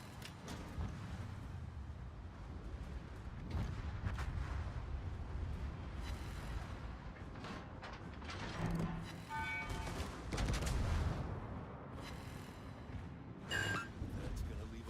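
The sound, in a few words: torpedoes hitting a ship in World of Warships video game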